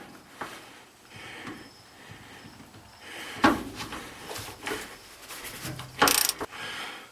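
Scattered metallic clicks and clanks come from a wrench or ratchet working loose an 18 millimeter bed bolt on a 1990 Chevy pickup, faint and irregular with short pauses between.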